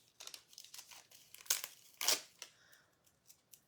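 Adhesive dot stickers from a Dollar Tree pack have their two-piece backing pulled apart, giving soft crinkling paper rustles with a couple of sharper peeling crackles, close and quiet, with no talking.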